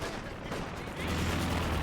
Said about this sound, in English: Panzer firing at the MG.